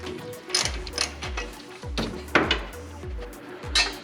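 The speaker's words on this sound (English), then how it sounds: "Sometimes you get lucky and you can use the socket wrench." Socket wrench ratcheting on exhaust manifold bolts of a Ford 289 or 302 V8, a close series of sharp clicking bursts repeating in an uneven rhythm, with faint incidental noise between strokes.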